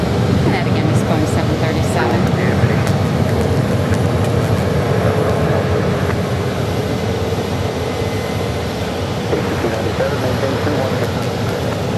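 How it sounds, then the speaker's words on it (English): United Airlines Boeing 737 arriving from Denver at Phoenix Sky Harbor Airport, heard as a steady, moderately distant engine rumble with faint voices mixed in. "United Airlines. Arrival from Denver, Flight 1845."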